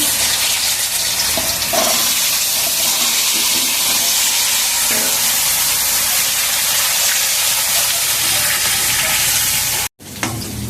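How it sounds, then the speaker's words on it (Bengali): Potatoes fry in hot oil in a home kitchen, a loud, steady sizzle with occasional stirring clatter, then a brief cut near the end. "আলুটাকে ভেজে নেব।"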